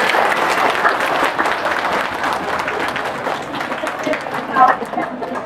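An audience at a meeting of cooperative fraud victims applauds in support, a sustained mass of clapping with crowd murmur underneath, steady and fairly loud.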